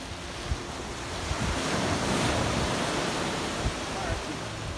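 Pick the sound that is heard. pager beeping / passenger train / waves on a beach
waves on a beach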